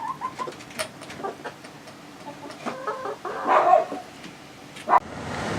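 Grown hens eating greens cluck and squawk in short, scattered bursts, close by, with a few louder squawks near the end.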